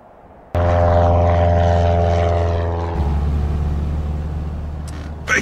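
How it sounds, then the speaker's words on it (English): A chartered propeller airplane in a Lego Jurassic World animated film drones loudly and steadily, its engine hum starting abruptly and shifting pitch partway through, with no speech over it. "Unidentified aircraft approaching Isla Sorna. You are flying in restricted airspace."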